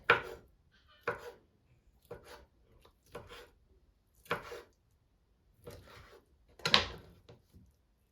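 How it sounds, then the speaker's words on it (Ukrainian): Knife strokes against a cutting board chopping boiled chicken liver, about eight separate chops spaced unevenly, close and fairly quiet, with no talking. "Нарізаю печінку я на ось такі шматочки."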